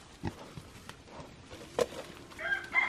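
Scattered soft clucks from hens sound nearby amid quiet farmyard noise, with a couple of brief higher calls toward the end.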